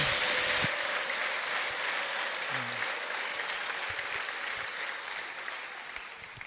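A church congregation claps for Jesus during a sermon, a loud, sustained wash of many hands that fades gradually toward the end, with a brief vocal sound early on.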